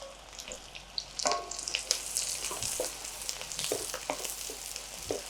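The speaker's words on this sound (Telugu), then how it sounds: "ఆనియన్స్ ముందు డీప్ ఫ్రై అవ్వాలి ఇందులో" Sliced onions deep frying in oil for chicken biryani, a steady crackling sizzle with scattered pops and spits, moderately close and continuous with no talk.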